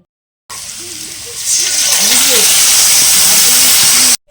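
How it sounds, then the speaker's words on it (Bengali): Radish greens frying in a pan, a steady loud hiss and sizzle that swells after a soft start and holds evenly, with faint low clatter beneath. "আমরা এখন করছি মূলোর শাক ভাজা"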